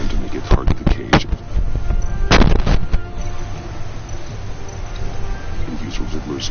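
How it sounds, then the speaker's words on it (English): A missile launch and blast in the Telltale Batman video game, heard as a few sharp bursts and one heavy boom amid ongoing rumble and noise. "I'll fire one of the missiles."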